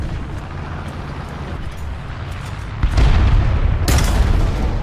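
Cannon fire from a KV-1 m1942 tank in the War Thunder video game, a heavy boom followed by a sharp loud blast with rumbling engine noise underneath.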